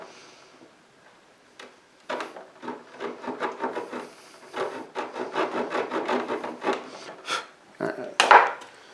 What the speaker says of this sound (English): rasp is actually what I'm using just to start it